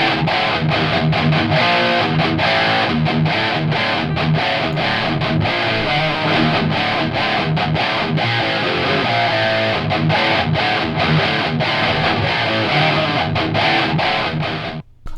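Dense, heavily distorted thrash metal electric guitars chug through a fast, tight riff in a recreation of a classic album's tone, loud and continuous with sharp rhythmic stops, cutting off abruptly at the end.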